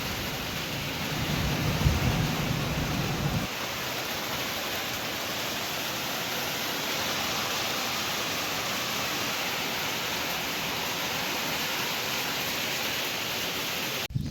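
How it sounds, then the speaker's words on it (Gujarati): Heavy rain with hail hammers steadily on metal roof sheets, a dense, unbroken roar that stays loud and even throughout, with a deeper rumble in the first few seconds. "વરસાદ વરસવા માંડ્યો છે ખજબનો. જો પતરા ગાજી સાંભળો તમે."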